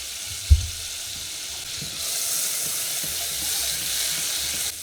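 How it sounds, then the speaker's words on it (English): Butter melts over medium heat in a small pot, a steady soft sizzle and faint hiss growing slightly louder after a sharp knock near the start. "we're just going to get our butter melted down"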